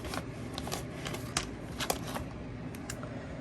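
Paper rustling and crinkling up close during a craft mail unboxing, with a note and papers taken from a package; soft continuous handling broken by a few sharper crackles and flicks, no talking.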